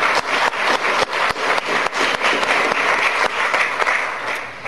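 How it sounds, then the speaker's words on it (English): Applause from the audience at a city council meeting, a steady, close round of many hands clapping that carries on for several seconds and then tapers off slightly. "Can we have a bit of applause here?"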